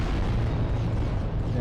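Volcano cannon shots in the Adeptus Titanicus tabletop war game: one loud, dense, rumbling blast roar that holds almost unbroken from start to finish, with no voices over it.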